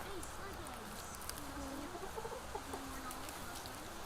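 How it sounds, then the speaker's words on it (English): Chickens cluck softly while being fed near a 1970s barn, the calls faint under a steady outdoor hiss with people talking nearby. "Feed it for the chicken, Tata."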